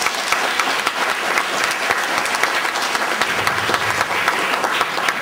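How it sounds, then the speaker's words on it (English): Applause from a school assembly audience honouring teachers, steady dense clapping filling the room for the full stretch, fairly loud and even with no talk over it. "So I think that deserves a round of applause."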